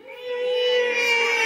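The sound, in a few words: voice imitating cat meow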